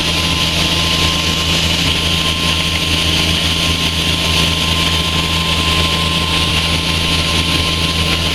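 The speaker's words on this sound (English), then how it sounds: "The Steiger 535 quad track gives you solid grip and power" A Steiger 535 quad track tractor's engine runs continuously and loudly, a steady droning hum with a constant tonal whine and no voices.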